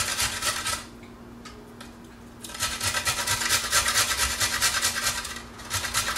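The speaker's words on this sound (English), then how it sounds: "Using the large side of the grater." Carrots scraped across the large side of a hand grater in quick rhythmic rasping strokes, close and clear, with a short pause before a longer, steady run of grating.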